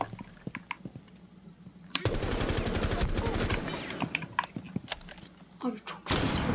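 Bursts of automatic gunfire in the video game Rainbow Six Siege, dense rapid shots in a long volley followed by scattered single pops and a final burst, loud and close.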